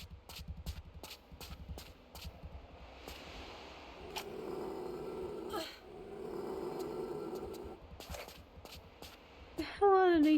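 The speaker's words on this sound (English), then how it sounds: "Oh, there's a dog down there." A dog growls in Tomb Raider III Remastered amid game sounds, with low snarling passages through the middle, sharp clicks and impacts around them, and a rising whine near the end.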